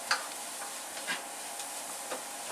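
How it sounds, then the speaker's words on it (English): Egusi frying in a pot, a soft steady sizzle with faint irregular ticks and crackles, quiet and alone. "That's the first step of cooking egusi. You will fry it."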